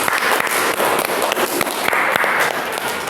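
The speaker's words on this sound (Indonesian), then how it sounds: "Tepuk tangan." A classroom group claps for the winning team during a school lesson, a steady burst of many hands filling the room throughout, with no talk over it.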